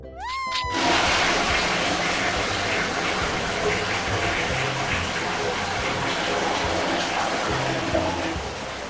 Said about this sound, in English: First, it is flushed down the toilet.